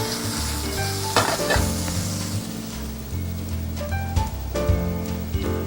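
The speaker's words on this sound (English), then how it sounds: "Saute up our pineapple chunks." Pineapple chunks sauté in a hot pan for an Asian pork dish, giving a steady, close sizzle with a few louder spatters and light utensil clatters, while faint tonal sounds run underneath.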